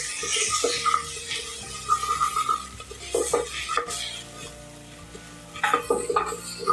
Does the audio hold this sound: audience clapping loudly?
no